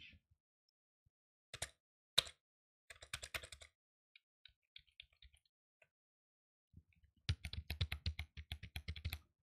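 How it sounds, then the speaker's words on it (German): Keys clatter on a gaming keyboard in scattered bursts of crisp, close clicks, broken by short pauses, then a longer quick run of typing at the end. "Tastatur ASMR ist schon wild."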